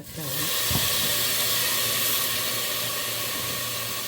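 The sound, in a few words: tomatoes added to a hot pan, sizzling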